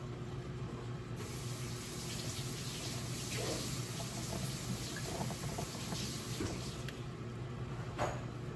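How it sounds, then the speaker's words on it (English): Collard greens being rinsed under a running kitchen faucet, a steady, close broadband hiss of water flowing continuously with faint splashing changes as the leaves are turned. "Give you a good little rinse."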